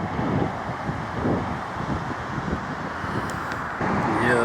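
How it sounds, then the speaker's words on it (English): Strong wind buffets the microphone at Helix Park beside the Kelpies, a steady broadband roar with gusty swells throughout, with a faint hum of distant traffic underneath. "Again, it's very windy, guys"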